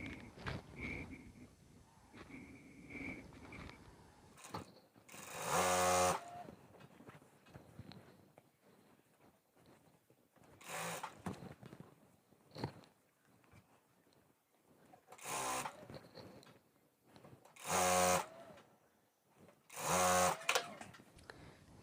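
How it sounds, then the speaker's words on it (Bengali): A sewing machine stitches a seam on palazzo pajamas in short bursts: four or five loud rapid runs of a few seconds each, separated by quieter handling noises and pauses. "দেখেন এখানে সেলাই দিয়ে লাগিয়ে নিলাম"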